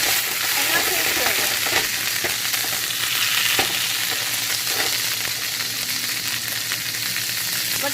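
Garlic frying in a pan, a continuous loud sizzle with occasional stirring scrapes and small pops, close and steady with no talk.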